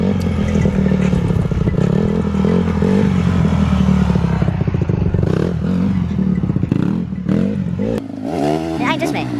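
Yamaha YZ 85 dirt bike bored out to 110cc, pulled from a barn, with its engine revving hard and rising and falling in pitch, mixed with clatter and people talking over it.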